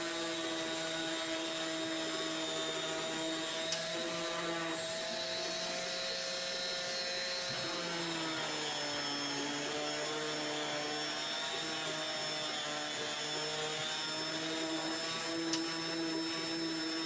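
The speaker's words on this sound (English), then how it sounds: "I only show the sanding of one component" A Japanese Shoji screen component is sanded with a power tool, giving a steady whining motor drone with sustained tones that holds unbroken throughout, with a slight pitch dip partway through.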